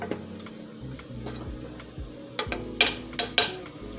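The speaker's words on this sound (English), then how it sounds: "Gonna stir this around here." Seasonings with a squeeze of ginger stirred in a pan, light ticking taps giving way to several sharp metal scrapes of a utensil, close and clear, no voices.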